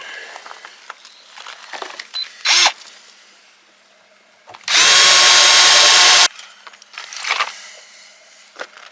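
A power drill bores a hole into a van's body in one loud, steady burst of under two seconds. A short whir comes earlier, and quiet handling noises surround it outdoors.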